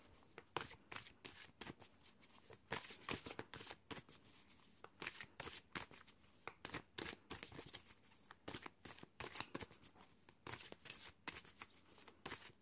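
Tarot cards are shuffled by hand in quick, crisp riffling bursts, repeated rhythmically and close to the listener, quiet and alone.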